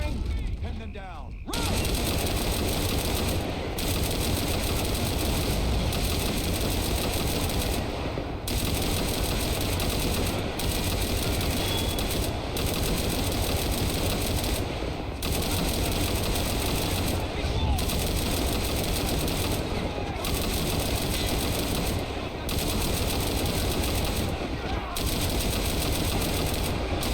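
Machine gun fire from army men in a battle at a swamp tank testing base, loud sustained rapid bursts hammering on almost without pause under a constant roar, briefly broken by short gaps.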